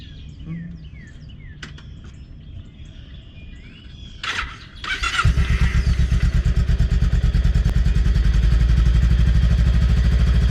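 On a cold, frosty day, a motorcycle engine sputters to life after a few clinks and faint birdsong, then settles into a loud, steady, rapid idle putter close by.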